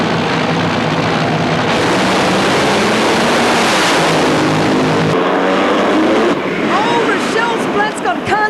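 Top Fuel dragsters launching down the strip at Adelaide International Raceway, a huge thunderous engine roar that swells and then fades away into the distance, with an announcer talking over it.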